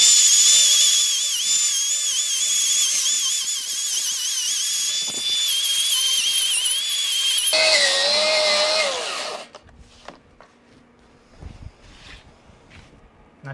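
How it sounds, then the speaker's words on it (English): A power wire brush scours a weld area on a metal garden bench, giving a steady, loud, high-pitched whine for about nine seconds before it cuts off, leaving quieter scattered clatter and handling noise. "I'm gonna wire brush that, clean it up just a little bit, and inspect"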